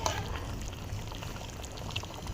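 Garlic ginger paste goes into a pot of chicken korma gravy, making a soft, continuous sizzle and bubbling of liquid close by, fairly quiet and without voices.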